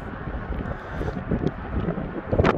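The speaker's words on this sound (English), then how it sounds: "It's a windy day." Wind buffets the microphone on a windy day in Iowa, a steady, rough low rumble that swells and gusts, with no other clear sounds.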